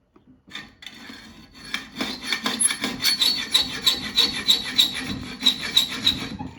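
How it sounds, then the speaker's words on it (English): A hand hacksaw with a well-used blade cuts into a heat-treated 4140 chromoly tool steel barrel nut wrench, its rasping back-and-forth strokes building to a steady, close, rhythmic grind with a metallic ring. "that's what a hacksaw did to 4140 chromoly tool steel"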